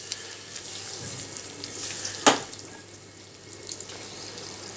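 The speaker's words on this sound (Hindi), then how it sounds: "तकरीबन आधी कटोरी पानी इसमें डाल के" Water poured into a pan of besan gatte curry (gram-flour dumplings) sizzling in hot oil gives a steady hissing rush, with a sharp splash midway and a softer trickle after.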